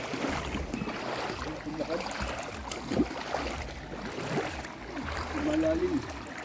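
Continuous rushing and splashing of river water with sloshing movement as people wade across it, fairly close, under a steady wash of ambient noise, near Puray Falls, Montalban, Rizal.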